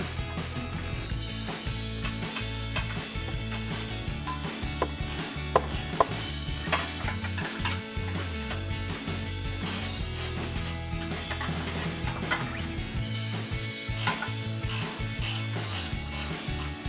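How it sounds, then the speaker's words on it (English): A 14mm ratcheting wrench loosens bumper bracket bolts on a 2014-2021 Toyota Tundra, clicking rapidly and continuously up close for the whole stretch, metallic pawl ticks in steady bursts with no talk. "I'm going to take my 14mm ratcheting wrench, get in here"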